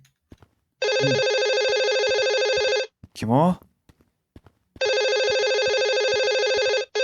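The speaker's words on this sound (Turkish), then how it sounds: "Oğlum telefon çalıyor lan." In the horror game Room 666, a hotel-room telephone rings loudly in two long electronic bursts separated by a pause. Someone speaks briefly between the rings.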